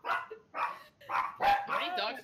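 Dogs bark in a quick series of five or six loud, close barks with yelping tones, while a voice can be heard faintly underneath.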